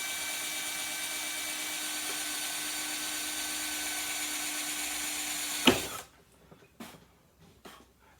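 Power drill boring into a steel organ pipe roller: a steady high whining drone for several seconds, then it cuts off abruptly, followed by a few brief clicks and taps in near silence.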